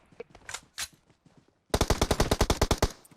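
Gunfire in the PUBG Mobile video game: a few scattered single shots, then after a short pause a rapid automatic burst of about a dozen loud, close rounds.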